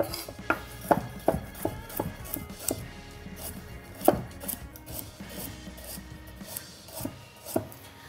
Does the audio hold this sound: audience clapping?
no